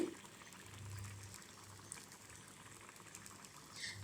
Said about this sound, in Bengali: তরকারিতে কিন্তু বলক চলে আসছে